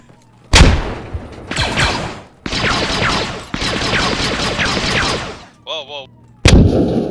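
Grenade blast and heavy gunfire in the Squad game's Star Wars spaceship battle mod, with a sharp explosion, bursts of rapid loud shots, a brief electronic warble, then another blast, close and intense.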